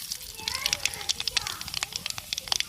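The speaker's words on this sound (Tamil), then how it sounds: "எண்ணெய் சூடாயிருச்சு கடை உளுந்து போட்டுக்கிறோம்" Urad dal dropped into hot oil in a pan crackles and spits in quick, sharp bursts at close range while squid gravy is being made, and a voice talks over it.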